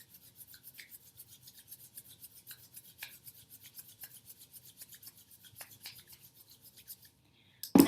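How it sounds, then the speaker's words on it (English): Palms rub together in slow, even strokes, a soft close swishing friction repeated steadily for several seconds before stopping, followed by a brief louder rustle at the end. "begin by rubbing your hands together"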